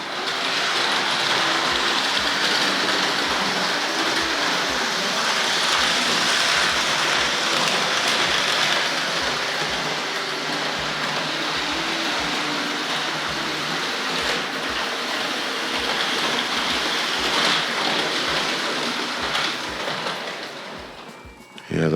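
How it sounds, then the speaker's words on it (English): Hornby model train running on a layout, its metal wheels clattering in a quick irregular rhythm over a point under a steady rushing motor and track noise, close and sustained. "the metal wheels in the chassis blocks tend to jump up and down, especially on this point. They really tend to clatter on that one."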